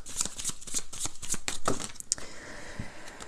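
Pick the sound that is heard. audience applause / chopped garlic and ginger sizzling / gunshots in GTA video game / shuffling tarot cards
shuffling tarot cards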